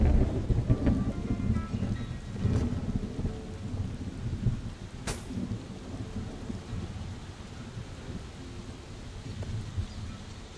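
Steady rain pours in a video game while thunder rumbles through it, with a loud crack near the start and another sharp strike midway. The rain stays dense and close throughout, and no one speaks.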